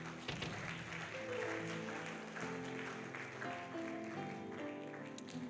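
A church congregation applauds for a woman, steady clapping from a crowd at moderate level with a soft organ or keyboard sustaining chords underneath throughout.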